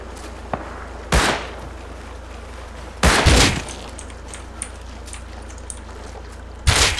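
Video game gunfire in a shooter match: three loud broadband bursts of shots, the middle one longest, separated by quieter stretches of low background noise, with one more burst starting right at the end.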